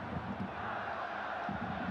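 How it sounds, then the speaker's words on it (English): Football stadium crowd at an AFC Champions League round-of-16 match between Shandong Taishan and Kawasaki Frontale, roaring in a dense, steady wash of cheering that fills the whole stretch with slight swells. "And the crowd are living this one."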